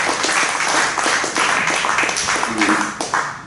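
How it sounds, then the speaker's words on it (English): A live band audience applauds the drummer at a show, a steady burst of clapping from the crowd over a few seconds with a few voices mixed in. "How about a round of applause for Damon?"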